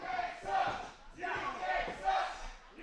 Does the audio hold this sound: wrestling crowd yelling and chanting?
yes